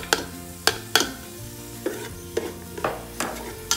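Onion frying in oil, with a low sizzle under repeated sharp clanks and scrapes of a spoon against the pan, spaced about half a second apart.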